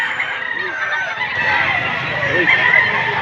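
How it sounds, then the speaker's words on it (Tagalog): Chickens and roosters at a poultry market in Padre Garcia, Batangas: a loud, dense chorus of clucking and crowing fowl close by, continuous throughout, with faint crowd murmur beneath. "ito pong dalang manok ni sir"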